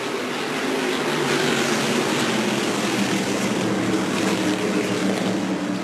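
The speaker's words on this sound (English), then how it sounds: "Coming to the green flag and ready to go racing here at Langley Speedway." A pack of NASCAR Whelen Modified Tour race cars roars steadily at Langley Speedway as the field takes the green flag, a dense, continuous engine drone with no pauses.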